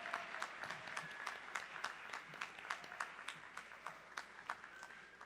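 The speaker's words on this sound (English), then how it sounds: "a big round of applause for the judges that we have here in front of us" An audience in a school auditorium claps for the judges at the Wallace Fry 2019 event, a dense, fairly distant ripple of many hands that runs steadily for several seconds without voices.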